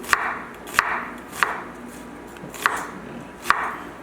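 A knife chops through onion on a cutting board in five crisp, evenly spaced strokes, close and alone over a faint room hum.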